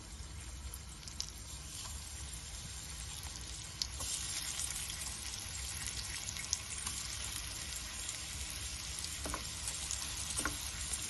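Sooji cutlets shallow-frying in a small amount of oil, giving a steady, close sizzle and crackle throughout, with a few louder pops and faint clinks of a utensil.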